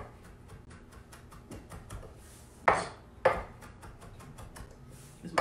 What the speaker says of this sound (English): I love chopping parsley